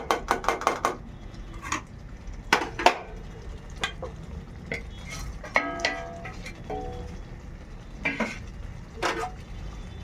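Aloo dum masala with khoya being stirred and sautéed in a pan, with a spatula scraping and clinking against metal in irregular bursts over a faint sizzle, close and fairly loud.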